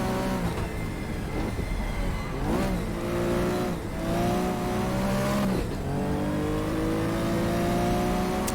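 A Porsche 914-6 race car engine in the GTR2 racing game drones loudly and steadily throughout. Its pitch sweeps up and down through repeated gear changes as the car accelerates and lifts off, heard alone with no talk.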